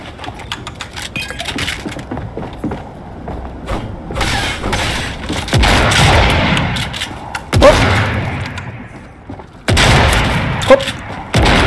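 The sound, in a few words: shotgun fire in the video game Fortnite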